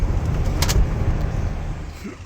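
A car pulls away at close range with a loud, low engine rumble and a brief mechanical clatter that fades slightly toward the end.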